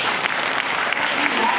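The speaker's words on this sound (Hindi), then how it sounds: "सबकी ताली बजाओ" An audience claps steadily through a brief, dense burst of applause at a Hindi devotional aarti gathering, with a voice speaking over it.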